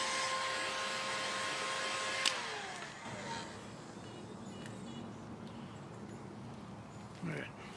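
A heat gun blows hot air onto a PVC bow to melt glue, a steady, close whooshing drone that drops in pitch and level partway through before continuing more softly.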